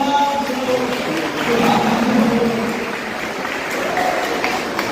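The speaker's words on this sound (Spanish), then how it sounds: "Bellísimo aplauso." An audience at a poetry and cultural event applauds, a steady wash of clapping with faint voices mixed in, moderately loud and sustained throughout.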